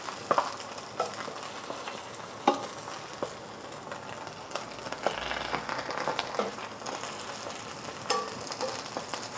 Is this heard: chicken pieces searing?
yes